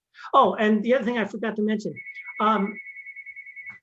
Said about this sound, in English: is not to have your phone ringing while you're trying to do